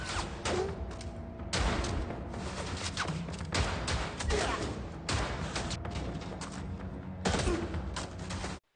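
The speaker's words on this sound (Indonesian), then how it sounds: "Terjadi baku tembak antara kedua belah pihak yang sangat seru dan juga dramatis." Gunfire in a film shootout scene: repeated bursts of heavy shots and booming impacts over a dense mixed soundtrack, with a voice audible at moments.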